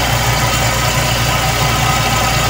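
A Toyota 2E car engine idles steadily after a cold start with its automatic choke working, a loud, close, continuous low rumble with an even throb and no talking.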